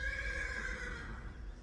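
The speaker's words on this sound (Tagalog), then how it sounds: "bigla akong nakarinig ng tila huni ng kabayo" A single horse whinnies, a bright quavering neigh that fades out after about a second over a low background hum.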